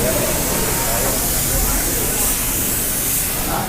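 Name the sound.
workers spraying in condo building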